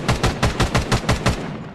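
Rapid gunfire in a first-person shooter video game, a quick string of about eight evenly spaced sharp shots in a tight rhythm, close and loud with no talk over it.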